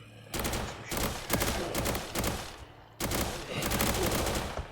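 Rapid, heavy automatic gunfire from a powerful weapon in the Roblox game Reign Fall, sustained loud bursts with a short break near the three-second mark, no voices.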